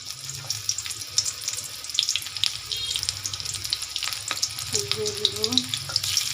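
Onions fry in oil in a wok, crackling and hissing close by, with scattered sharp pops, light clatter and a brief squeaky scrape near the end.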